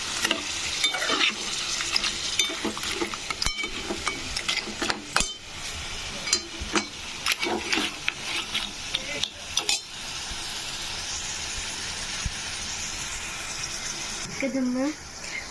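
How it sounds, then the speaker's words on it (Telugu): Cut crab pieces sizzle and fry in a pan while a spoon repeatedly scrapes and stirs, giving scattered clatters over a soft hiss, followed by a brief gush of liquid near the end. "మన పీతలు అయితే బాగా ఉడుకుతున్నాయండి"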